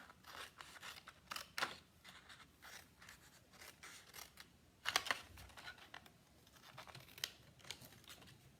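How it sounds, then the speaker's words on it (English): Scissors snip through paper while a gift tag is cut out, giving quiet, close, irregular crisp clips and small rustles with no voices. "So let me finish cutting this."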